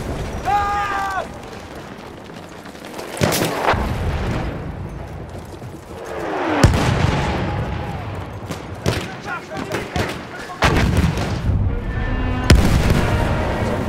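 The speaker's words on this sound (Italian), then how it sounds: "La nostra artiglieria sta trattenendo il nemico" Artillery fire in the video game Battlefield 1: repeated heavy booms and sharp blasts at irregular intervals over a rumbling battlefield, with voices heard between the explosions.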